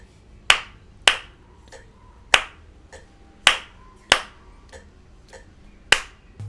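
Sharp hand claps ring out one at a time in an uneven rhythmic pattern, each a crisp close slap with a short decaying tail, marking the start of repeating rhythm phrases over a quiet background.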